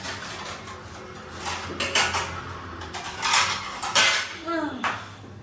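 Plates are picked up and handled in a home kitchen, with several close ceramic clatters and clinks of dishes knocking together at irregular intervals, and faint voices in the background.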